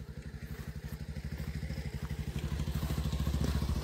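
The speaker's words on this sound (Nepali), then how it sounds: "भाइ चाहिँ यता बाइक कुदाउँछ" A motorcycle engine putters with a rapid, even pulsing beat that grows slightly louder as it rides along on a village road in Phidim, Nepal, with no voices.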